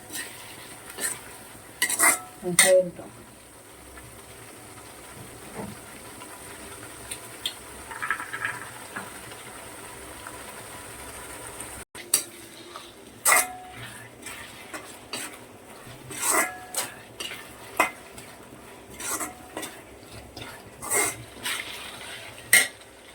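Garlic cloves sautéing in a pan under a faint sizzle, broken by frequent clinks and scrapes of a spoon against the metal, close by and with no talking.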